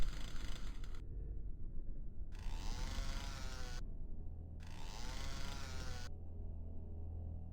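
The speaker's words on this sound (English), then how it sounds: "It's like a weird double chainsaw." A double chainsaw weapon from the video game DOOM 64 buzzes loudly in two sustained bursts, its rough motor whine rising and falling over a steady game hum.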